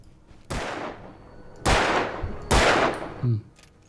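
Three loud, booming gunshots ring out in a video game, each with a long decaying tail, spaced about a second apart, followed by a short thud.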